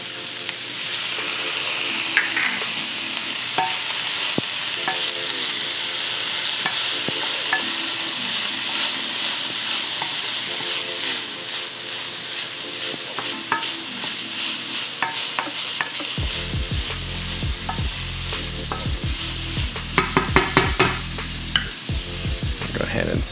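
Garlic tossed into sautéing vegetables for a Cajun corn maque choux sizzles steadily while a utensil stirs and scrapes the pan, the frying growing louder and busier near the end.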